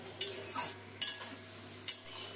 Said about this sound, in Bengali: এই জলটা দিয়ে মশলাটা আরেকটু কষিয়ে নেব।